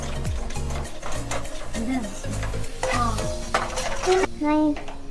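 Homemade caramel for salted caramel popcorn being stirred in a pan, with a spoon scraping steadily through a sizzling base, close and fairly loud, with short bursts of voices over it.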